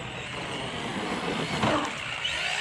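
An Arrma Granite Mega RC truck with a lithium polymer battery upgrade is given throttle. Its electric motor makes a brief, fairly faint whirring surge that rises during a short burst of acceleration.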